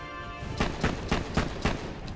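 Rapid gunfire from a faster gun in the video game Borderlands 2, about six sharp shots in an even rhythm, loud and close.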